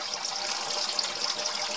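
A Turtle Clean 511 canister filter's spray bar sends water splashing steadily into a turtle tank, a constant close hiss and patter with no break.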